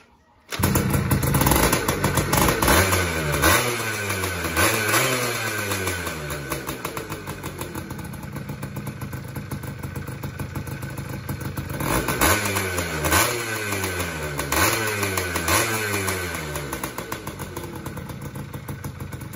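A Yamaha F1Z R motorcycle with a non-original engine block starts and runs up close, its engine revved in repeated sharp bursts that rise and fall, easing back to a steady idle between two clusters of throttle blips.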